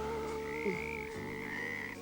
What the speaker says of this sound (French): Ah, les grenouilles